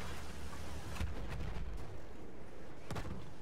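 Muffled explosions from bombing in the Battlefield 1 video game thud through a constant loud roar, with two or three heavier booms standing out.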